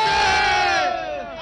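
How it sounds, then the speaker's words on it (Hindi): Crowd at a Janmashtami celebration loudly chanting slogans in praise of Lord Krishna, a sustained massed roar of voices close by that fills the whole clip. "लगातार श्री कृष्ण भगवान की नारेबाजी कैसे होती है"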